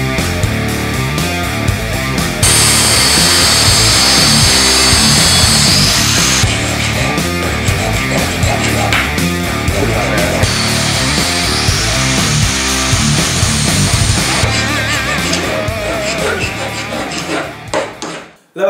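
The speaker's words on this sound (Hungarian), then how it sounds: "Mivel flexel vágtuk, ezért ez egy kicsit elmosta az alumíniumot" An angle grinder cuts aluminium trim strips in a loud, continuous, harsh whine that runs for nearly twenty seconds, with brief shifts in pitch as the blade bites, and no talk over it.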